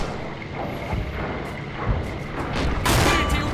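Enemy artillery fire in the World War II shooter game Red Orchestra 2 on the Mamayev Kurgan map: rumbling gunfire and booms, with a louder explosive blast near the end against steady battlefield noise.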